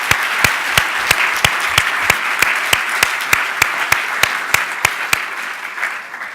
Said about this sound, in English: How about a round of applause for our distinguished guests?